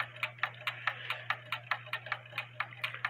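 A cuckoo quail clock ticks in an even, rapid rhythm of sharp, close clicks, about four per second, over a faint steady hum.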